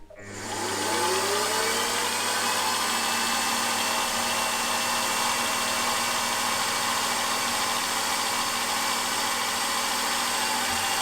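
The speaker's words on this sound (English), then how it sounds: "now I'm just cutting a groove 70 thou deep" A lathe cuts a 70 thou deep groove into a conrod for a Jerry Howell V-twin IC engine, giving a steady, continuous machining whine and hum that holds unchanged for the whole stretch, with no talking.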